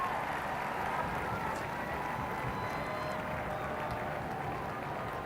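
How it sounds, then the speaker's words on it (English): Armed forces at the coronation celebration of King Charles and Queen Camilla give a round of applause, a soft, steady wash of distant clapping that continues evenly throughout. "The armed forces giving a round of applause."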